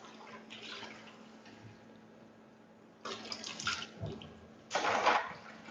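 Fragile 100% buckwheat soba noodles being gently rinsed by hand in water, with soft continuous splashing and sloshing that swells into louder bursts of running water near the end.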